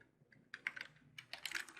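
Quiet, close-up keystrokes on a computer keyboard as a host name is typed while setting up a DNS server, two short clusters of rapid clicks separated by a brief pause.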